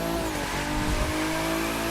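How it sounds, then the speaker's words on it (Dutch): A car drifting in The Crew 2 racing game, its engine droning steadily while tires squeal continuously through the turn, loud and close with no voices. "Hier hoef ik de eerste keer met een auto voor te driften."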